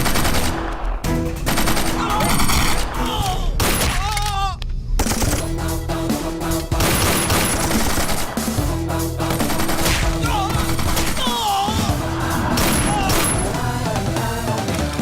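Gunfire rattles through a Hindi-dubbed Telugu action movie shootout, with rapid bursts of shots, booms and crashes layered over a dense score, loud and continuous across the scene.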